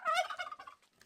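A farm turkey gobbles in a quick, loud, rattling burst close by, trailing off after about a second on a small winter farm in Canada.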